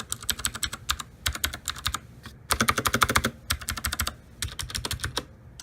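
Typing on a Tomoko 87-key mechanical keyboard with knockoff Cherry MX Blue switches: loud, crisp clicky keystrokes in rapid bursts separated by short pauses, close up with no talking.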